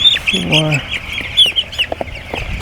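Young chickens on a chicken farm keep up a dense, high chorus of peeping and clucking nearby, with a voice briefly heard over the flock.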